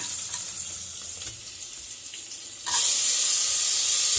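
Browned onions frying in a pan as tomatoes go in for a snail gravy, a steady hiss that suddenly jumps into a loud, bright sizzle partway through, close by with no talking.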